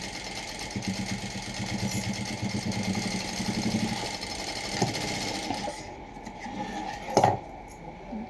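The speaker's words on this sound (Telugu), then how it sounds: "ఎడ్జ్లో టాప్ స్టిచ్, ఎడ్జ్లో లాక్ స్టిచ్ అనేది వేసుకోవాలి" Sewing machine running steady top stitching along a blouse edge, a close, continuous mechanical hum and rapid needle chatter that stops near the end with a clunk.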